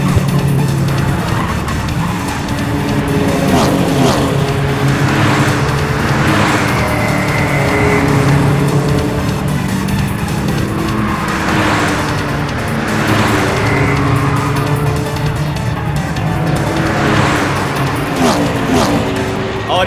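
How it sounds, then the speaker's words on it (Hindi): Race cars speed through a car race, engines roaring and tires squealing in repeated loud bursts that swell and fade as they pass, while a commentator talks excitedly over the action. "गाड़ी नंबर 5 सबसे आगे जाते हुए से चला रहे हैं डोमिनिक डिसूजा, और ठीक उसके पीछे गाड़ी नंबर 4"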